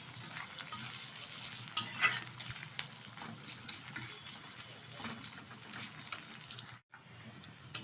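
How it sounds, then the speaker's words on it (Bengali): Chopped onion sizzles and crackles in hot oil as it fries down for birista, a steady close frying hiss with occasional stirring scrapes and no talk. "ওরকমভাবে আমি ভেজে নিচ্ছি পেঁয়াজটাকে"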